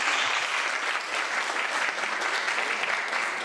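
A church congregation applauds to welcome new members: a dense, continuous wash of many hands clapping at moderate level, steady throughout with no voices on top.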